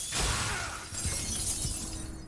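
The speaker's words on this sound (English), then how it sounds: "Especially if we can break a bunch of glass and not have to worry about it." Breaking glass in Dishonored 2, set in the Royal Conservatory: a loud, close shatter right at the start, with scattered shards tinkling and crunching for a couple of seconds afterward.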